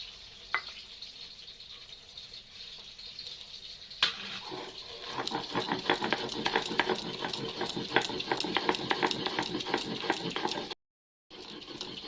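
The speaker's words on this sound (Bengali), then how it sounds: "এবার আমি মাছটা ভাজার জন্য বসিয়ে দিয়েছি।" Fish fries in a pan for a Bengali dish, with a steady, close sizzle and spitting oil building after a sharp clatter, a few utensil clinks on top, and a brief cut to silence near the end.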